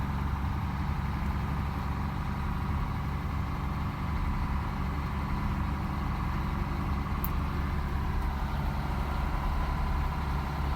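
A large Mercedes-engined machine rolls across frozen sea ice, its heavy engine rumbling low and continuous close by with no other sound breaking through.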